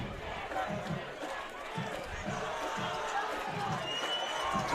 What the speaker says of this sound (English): Crowd making noise. They could sense it.